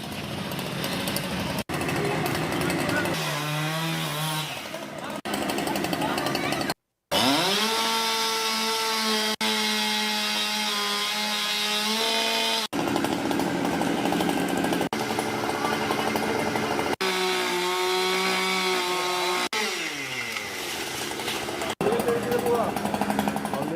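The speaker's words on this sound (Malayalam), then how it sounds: "ഫയർഫോഴ്സും നാട്ടുകാരും ചേർന്ന് മരം മുറിച്ചു നീക്കി" A chainsaw cuts up a fallen roadside shade tree on JTS Road in Kodungallur as firefighters and locals clear it, the engine loud and close, revving up and down through repeated cuts with brief pauses.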